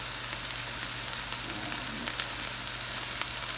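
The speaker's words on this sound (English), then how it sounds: "I'm on a 6 as far as the heat, so I'm going to kind of get a sear on there" A steak sears in oil in a pan over medium-high heat, giving a steady, fairly quiet crackling sizzle with scattered small pops, alone and unchanging throughout.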